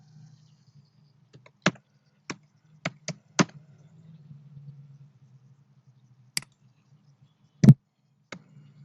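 Typing on a computer keyboard while working in Microsoft Word, sparse, isolated key clicks spread irregularly across a quiet background with a low hum, close and crisp.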